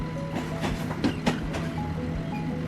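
Train wheels clatter over rails in a steady rumble, with a few sharp clacks and faint tonal hums over the noise, from a train in the video game A Game About Chopping Trees.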